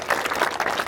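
An audience at a Pakistani community fundraising gathering with a congressman in Chandler applauds the speaker's relatives, a brief, dense patter of clapping that holds steady from start to finish.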